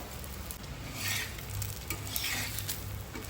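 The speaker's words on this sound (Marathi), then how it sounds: "हे बघा तवा असा मस्त गरम झालेला आहे त्यावर मी तेल टाकलंय छान" Thalipeeth fries in oil on a hot tava over a medium flame, giving a steady, close sizzle that swells and eases in waves with no one talking.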